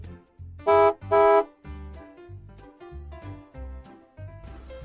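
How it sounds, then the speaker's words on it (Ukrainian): Bus horn honking twice in quick succession, loud bright blasts early on, among softer engine-like tones and musical notes. "Автобус."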